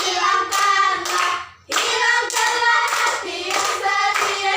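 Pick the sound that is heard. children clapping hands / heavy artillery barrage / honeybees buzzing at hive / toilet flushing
children clapping hands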